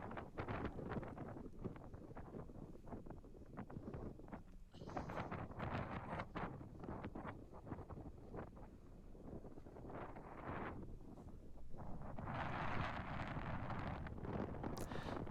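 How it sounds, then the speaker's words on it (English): Strong wind gusting across Stanage Edge, an exposed gritstone and peat moorland edge, buffeting the microphone with a constant rough roar and heavier surges, heard alone and fairly close. "The wind was blowing with a vengeance"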